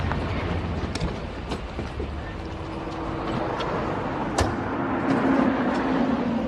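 Inside a moving car, a steady low engine and road rumble runs throughout, with a few faint clicks and bumps and voices talking over it.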